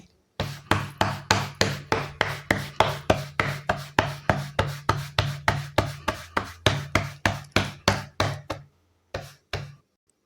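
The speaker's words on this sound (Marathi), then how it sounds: "थोडंसं खाली कोरडं पीठ टाकून भाकर थापून घेते" Bhakri flatbread dough patted by hand on dry flour, a steady run of about two dozen close, evenly spaced slaps that stop briefly near the end before two final pats.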